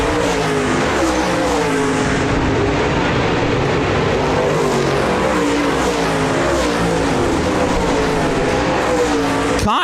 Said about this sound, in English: Kyle Burke still out in front and now into lap traffic